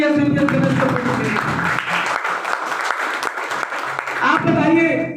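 An audience at a health talk bursts into loud, dense clapping that swells and holds for a few seconds, then fades as a voice resumes speaking.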